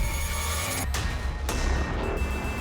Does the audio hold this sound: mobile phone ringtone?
yes